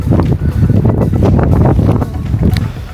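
Strong storm wind blows hard in the Arctic at Svalbard, at about -15 degrees, roaring and buffeting the microphone in loud, uneven gusts throughout.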